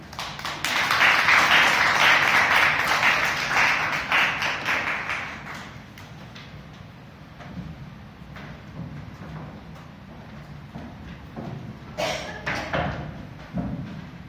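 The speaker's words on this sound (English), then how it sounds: "Please keep the applause going" Steady audience applause at a Toastmasters club meeting fills the room for several seconds, then fades into scattered claps and light knocks in a quieter hall.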